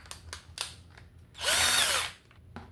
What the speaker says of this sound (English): So I'm gonna drill right here.